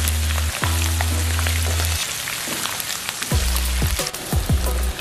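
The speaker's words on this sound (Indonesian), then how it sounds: "kita akan goreng 100 gram ikan asin sebagai bahan pelengkap" About 100 grams of salted fish fry in hot oil in a home kitchen, a dense continuous sizzle and crackle close up over a low steady hum, with no voices.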